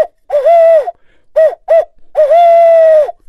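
A voice imitates an owl's hoot in the 'who cooks for you' rhythm, used to make a turkey gobble: loud, close, breathy hooting in two short phrases, separated by brief pauses.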